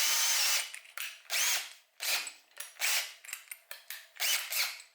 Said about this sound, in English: We're going to chamfer this hole so that the screw sits nice and flush.